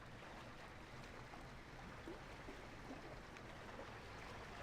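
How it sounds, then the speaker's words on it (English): Soft continuous water wash and gentle wave noise during a ferry crossing in Euro Truck Simulator 2's Brazil map, faint and steady with no talk. "So, lots of water sounds in case you had to go to the bathroom."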